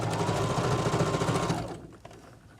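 A sewing machine stitches a drawstring bag in a fast, close, rhythmic run of about a second and a half, then stops, leaving brief quiet handling sounds.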